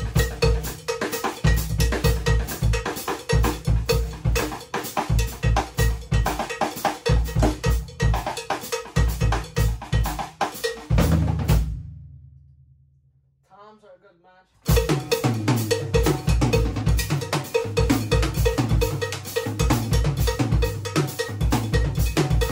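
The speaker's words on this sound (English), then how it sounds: "also a good match for cowbells, playing with cross sticks" A cowbell is played with cross sticks in a steady, rapid groove alongside a drum beat, loud and close, with one brief pause before the pattern resumes.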